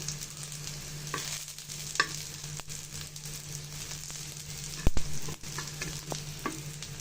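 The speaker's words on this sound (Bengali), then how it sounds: "আমি কিছু সরিষা ভেজে নিব সাথে।" Mustard seeds frying in a pan with fried onion and garlic for taro bharta, a faint steady sizzle with occasional sharp pops and a louder stirring scrape near the end, no talk.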